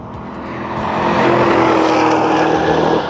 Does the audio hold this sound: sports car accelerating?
yes